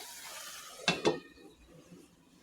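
Two quick metallic clanks as a lid is set on a cooking pot of small-fish chorchori with chopped coriander, close and fairly loud over a faint sizzle.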